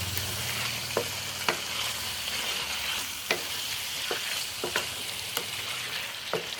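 Chicken liver and gizzard fry, street style, is stirred in a pan with spices and coriander powder; irregular sharp scrapes and clacks of the spoon ring out over a steady, close frying sizzle, with no talking.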